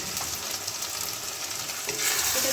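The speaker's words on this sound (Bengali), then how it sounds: "যতক্ষণ না এই মশলাগুলো কাঁচা গন্ধ যাচ্ছে এটাকে ততক্ষণ আমি ফ্রাই করে নেব" Ground spices, including cumin powder, fry in hot oil for a Bengali prawn curry. A steady close sizzle is broken by scraping stirs, growing slightly louder near the end, with no talking.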